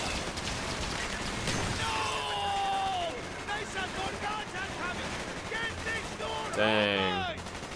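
Rapid automatic gunfire bursts in a Call of Duty: Black Ops prison-riot battle at Vorkuta, crackling near and loud amid shouting voices and chaotic combat noise, with a sharp volley near the end.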